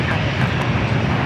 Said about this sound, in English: Our next arrival southwest, coming in from Phoenix, is 737-700, flight 1088.